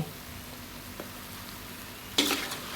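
Seabass stir-fried in a wok with sugar, fish sauce and oyster sauce gives a steady, soft sizzle, broken near the end by one brief louder scrape or hiss.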